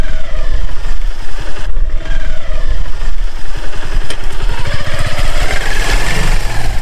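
A motorbike crosses a dry riverbed near a border village char in late winter, its engine droning loud and steady, rough and close throughout.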